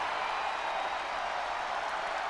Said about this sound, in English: the crowd here really feeling the excitement tonight